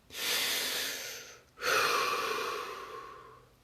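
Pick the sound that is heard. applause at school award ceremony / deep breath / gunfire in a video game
deep breath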